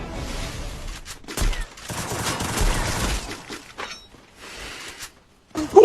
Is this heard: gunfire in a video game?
yes